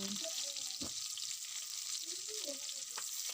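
Onion and garlic sizzle in a pan with a bright, even hiss throughout, close and steady, with faint tonal scrapes under it and no clear speech.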